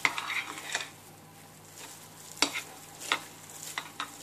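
A fat head dough of almond flour, egg and seasoning is stirred in a bowl, giving soft scraping and a few sharp clinks of utensil against the bowl, close and fairly quiet.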